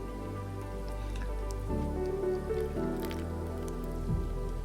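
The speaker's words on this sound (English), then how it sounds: "So I'm going to put a little bit of water." A little water poured onto the soil of a sweet pea growing kit, a soft, close patter and trickle with faint wet squishing over a steady low hum, fairly quiet and without talk.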